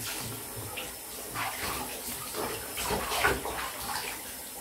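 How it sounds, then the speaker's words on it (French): Water is splashed onto a face at a bathroom sink, heard as a few soft, irregular splashes and trickles at close range, fairly quiet, with no talking. "Je vais passer de l'eau sur mon visage."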